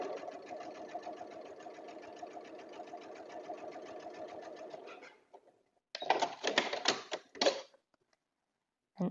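A sewing machine stitches a quilt block in a fast, even mechanical rattle for several seconds, stops, then runs again in a few shorter, louder bursts before falling quiet, close and alone without talk.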